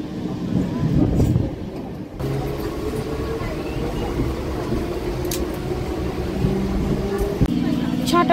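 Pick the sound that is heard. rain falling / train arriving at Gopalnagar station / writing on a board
train arriving at Gopalnagar station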